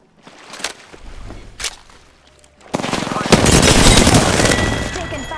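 Gunfire in the Apex Legends video game, a few isolated sharp shots early on followed by a dense, loud burst of rapid automatic fire lasting several seconds.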